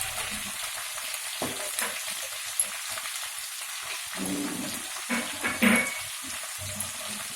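Cumin seeds frying in hot oil in a pan for a green chilli chutney, a steady crackling sizzle with occasional sharper pops and stirring scrapes.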